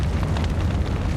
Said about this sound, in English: There had to be another explosion.